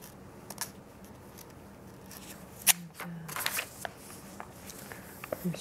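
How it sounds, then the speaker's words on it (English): Faint mechanical clicking and light rustling from camera handling, with a brief sharper click midway, quiet and close against low background hiss. "I'm sorry for the noise of the camera."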